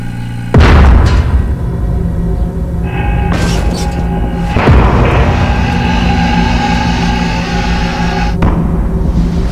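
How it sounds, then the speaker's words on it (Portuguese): A supernova explosion sound effect opens with a sudden deep boom, then a dense rumbling roar that swells again partway through and holds steady to the end, loud and without speech. "A estrela entra em colapso e ocorre uma explosão de supernova."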